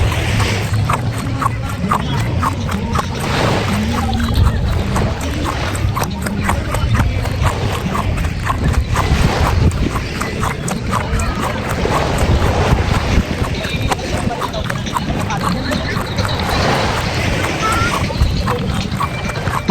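A boat ride at Calaguas Island, Camarines North: steady engine rumble and wind buffeting the microphone run throughout, with people talking over the noise.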